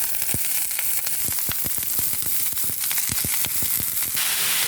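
Vegetables and curry leaves sizzle in hot oil for an Onam thoran, a loud, continuous hiss studded with sharp popping crackles and spatters, close by and with no voices.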